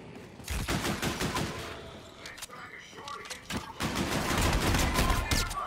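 Pistol gunfire in Call of Duty Infinite Warfare Zombies cracks in quick bursts amid game effects and clatter, with a voice talking over the action.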